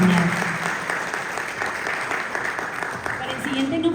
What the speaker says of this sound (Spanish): brindémonos otro fuerte aplauso al doctor José Luis Ramírez Ramírez